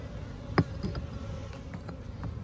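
Honey bees buzz around an open, previously aggressive hive, with a soft steady hum and a few louder passes of individual bees close by, no voices.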